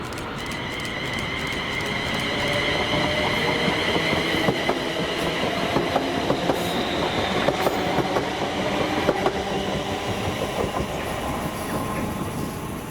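British Rail Class 158 diesel unit 158717 runs past Paisley Gilmour Street station, a loud, continuous rumble with wheel clatter and faint squeals holding steady throughout, heard up close with no talking.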